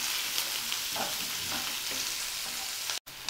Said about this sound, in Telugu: ఈ ఉల్లిపాయలు కూడా మనకి ఫ్రై అవ్వాలండి.